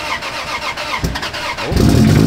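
Engine of a 36-year-old Chevy truck cranks and catches near the end, a steady idle rumble building loudly after brief starter noise, with no talk.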